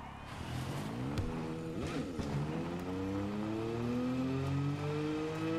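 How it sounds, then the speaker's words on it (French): Small whiny engine of a vehicle in Borderlands 3, droning steadily with rising and falling pitch like a moped, a few sharp knocks breaking in, fairly faint throughout. "Ce bruit de moto quand même."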